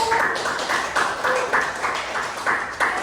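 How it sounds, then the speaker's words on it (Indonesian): Classroom applause for a student, a short burst of hand claps with a few distinct slaps standing out, fairly near and moderately loud, with a faint voice underneath. "Oke, boleh tepuk tangan untuk Ayin."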